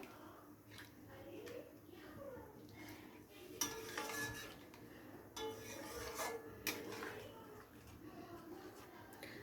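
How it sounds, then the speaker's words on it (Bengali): A spoon stirs a semi-gravy of rohu fish with poppy seed and a little added water in a pan, making soft, irregular scraping strokes that stay faint and close. "সামান্য পরিমাণ জল দিয়ে খুব ভালো করে মিশিয়ে নেব একবার"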